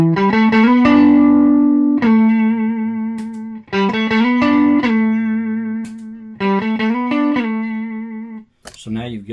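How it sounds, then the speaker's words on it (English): Electric guitar played through an Amptweaker TightDrive Pro pedal with its mid boost engaged, sounding as several sustained, ringing chords repeated in a steady pattern, up close, ending with a short burst of noise. "Another thing you can kick on with the boost is the mid boost over here, which boosts obviously the mid range when you hit this boost."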